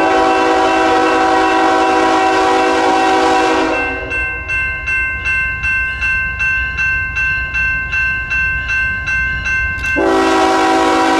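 A westbound freight train in the Springfield, Missouri area sounds a loud, sustained horn, then its wagons roll past close by with a steady rhythmic clickety-clack before the horn blares again.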